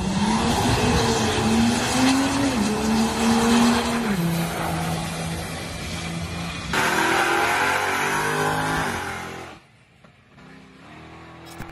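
A Cummins 5.9 diesel truck accelerates hard on a pull, its loud, close engine roar climbing in pitch and dropping at each gear change before cutting off abruptly near the end, with no voices.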